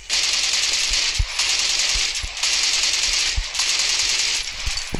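Sustained automatic machine gun fire in the Call of Duty Mobile shooter, a loud, continuous rattling stream broken by brief pauses, with low thumps punctuating the bursts.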